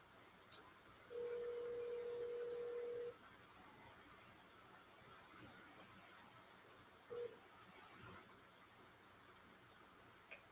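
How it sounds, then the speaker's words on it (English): Outgoing phone call ringing, a single steady tone lasting about two seconds, then a brief second beep, faint over a quiet hiss with small clicks. "Let's see if B Ham answer the phone"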